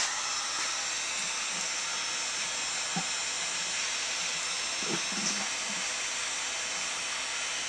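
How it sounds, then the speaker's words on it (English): A heat gun blows steadily while softening plastic scarecrow fingers to bend a knuckle, a constant broad hissing rush with a few faint knocks and handling sounds, close and alone. "Okay, back to my heat gun."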